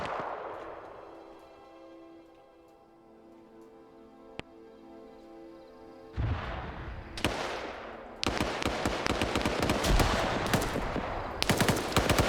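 Video game gunfire from a BTR's 14.5mm heavy machine gun: a quiet lull with one sharp crack, then loud, close bursts of rapid automatic fire growing denser toward the end.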